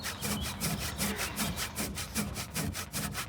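A hand saw cuts through wood in steady back-and-forth strokes, about four per second, close and continuous with no talking.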